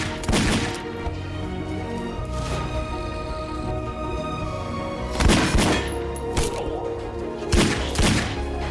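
Gunshots fired by gang leader Razor in a film scene, several loud sharp bursts spread across the clip over a constant background rumble.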